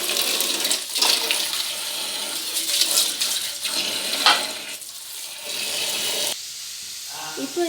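Kitchen tap water running and splashing while spinach greens are rinsed in a vessel, a steady close gush with handling noises, changing in tone as the flow shifts near the end.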